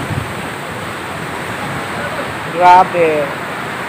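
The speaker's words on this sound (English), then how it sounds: "My God, look at the beach, look at the ocean. It's roaring, guys." Roaring Pacific Ocean surf at a wide beach in Parola, a constant broad wash of waves with a brief spoken exclamation near the end.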